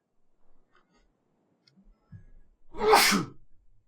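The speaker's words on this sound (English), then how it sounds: "First of all, I'm going to sneeze." A single loud sneeze bursts out after a brief quiet sharp inhale, close to the listener and alone, trailing off quickly.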